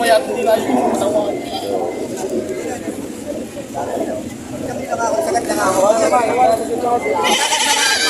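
Goats bleat repeatedly amid a busy outdoor crowd at a goat market, their wavering cries rising over steady background chatter from people talking nearby.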